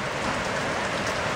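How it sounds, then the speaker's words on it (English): Heavy rain pours down outdoors during a storm, a steady, dense hiss of drops hitting surfaces, loud and continuous with no voices. "and it's still raining."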